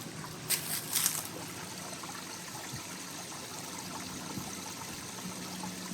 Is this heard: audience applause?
no